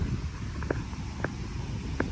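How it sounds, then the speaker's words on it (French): Low rumbling wind buffeting the microphone outdoors on a street in Montreal, a steady blustery roar with a few faint clicks and knocks breaking through. "il y a beaucoup de vent là"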